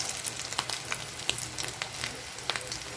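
A corned beef omelette frying in a pan gives off a close, continuous crackling sizzle with scattered sharp pops and spits.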